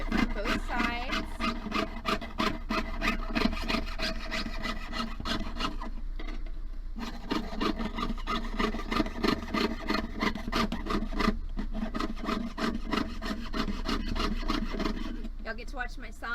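A jeweler's saw rasps back and forth cutting metal in a steady rhythm, close and fairly quiet, with brief pauses between strokes.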